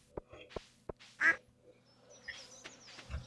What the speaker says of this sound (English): Oh, all the ducks are out.